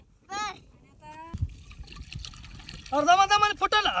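Water trickles and splashes softly as it is poured, while children's voices talk loudly over it.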